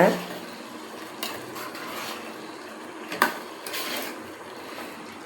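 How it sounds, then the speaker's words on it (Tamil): A spoon stirs ground sesame, peanut and poppy-seed masala into brinjal pachadi in a pan, giving soft scraping and clinking knocks over a steady background hiss, with no talking. "இதுதான் மசாலா, சேர்த்துக்கோங்க. நல்லா இப்படி கிளறி விடுங்க."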